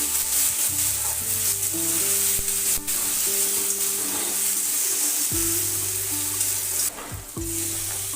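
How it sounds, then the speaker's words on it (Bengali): Ginger, garlic, green chili and dried red chili paste fry with browned onions in a pan, giving a loud continuous sizzle with stirring scrapes and a few clatters, close up, with some steady hum underneath. "পেঁয়াজগুলো ভাজা হয়ে গেছে, এরপর দিয়ে দেবো আদা রসুন আর কাঁচা লঙ্কা শুকনো লঙ্কার পেস্ট"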